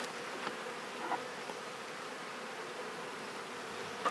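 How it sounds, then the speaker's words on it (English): Soft, steady buzzing of honey bees with a faint hum, quiet and continuous without any talking. "they're actually fairly quiet bees, these ones"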